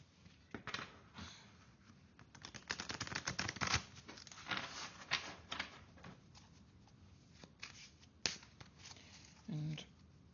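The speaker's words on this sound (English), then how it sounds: "Give them a good old shuffle." Tarot cards being shuffled by hand, with bursts of quick riffling flicks and soft card slaps, close and quiet, and a short pause between bursts.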